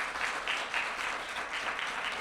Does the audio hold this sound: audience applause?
yes